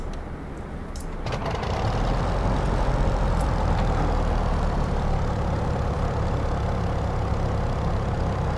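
A Klemm 25 light aircraft's engine runs at open throttle in Microsoft Flight Simulator 2024, a steady loud drone that swells slightly in the first seconds and then holds level, with no talk.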